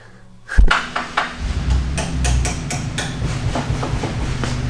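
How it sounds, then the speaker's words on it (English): A sharp knock is followed by a series of rapid, loud knocks with a faint metallic ring, set against a steady low rumble. "Somebody's knocking."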